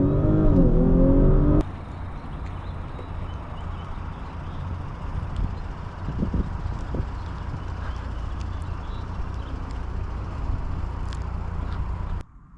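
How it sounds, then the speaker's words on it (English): A 2020 Audi S4 Premium Plus with a 3.0T engine holds a steady exhaust drone from inside the cabin after a loud low rumble at the start, with scattered short pops and burbles across the upshifts. "it has these nice burbles on the upshifts"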